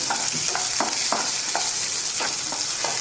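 Slimy vegetable pieces for Kerala sambar frying in a pan, a steady hiss with a series of regular stirring scrapes and clicks from a spoon against the pan, close and alone.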